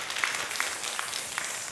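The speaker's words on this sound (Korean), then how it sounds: "박수 한번 해주세요." A church congregation applauding during a service, a short burst of scattered, fairly light hand claps at moderate distance.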